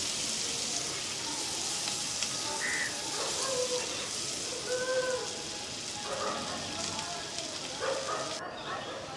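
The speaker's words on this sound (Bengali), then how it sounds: "পেঁয়াজটা ভালো করে নেড়ে চেড়ে ভেজে নেব।" Chopped onions fry in a pan with a continuous soft, rain-like sizzle and occasional scraping as they are stirred, fairly faint, while a voice talks intermittently over the cooking.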